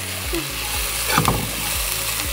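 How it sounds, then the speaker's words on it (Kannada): Onions frying in a pan give a steady, close sizzle, with a brief clink or stir partway through and no talking. "ಆನಿಯನ್ ಚೆನ್ನಾಗಿ ಫ್ರೈ ಆಗಿದೆ."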